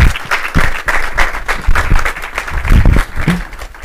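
Audience applause welcoming a speaker at a commemorative talk, a steady wash of many hands clapping close and loud for about four seconds with no voices over it.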